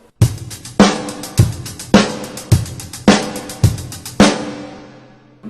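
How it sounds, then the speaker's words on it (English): A drum kit plays a simple beat of evenly spaced, punchy hits with ringing decays, about two per second, loud and close, then fades out with no voices. "a way to practice this is to just play your beat on this with 16th notes on the hi-hat, kick drum on 1 and 3, the snare drum on 2 and 4"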